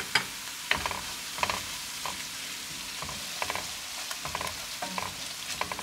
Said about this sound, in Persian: پیازمون تفت خورد، ادویه رو کامل همه رو اضافه میکنم.